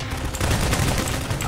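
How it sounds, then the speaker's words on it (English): Gunfire in Garry's Mod Prop Hunt, with loud bursts of shots packed into a short spell and faint voices under them. "They're shooting me from the roof!"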